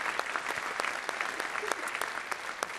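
An audience applauds an a cappella choir at a stage show, dense steady clapping from a large crowd filling the whole moment at moderate loudness.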